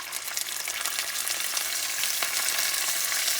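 Sofrito frying in annatto oil for a low-carb chicken stew sizzles steadily and loudly up close, with faint stirring scrapes and no voices.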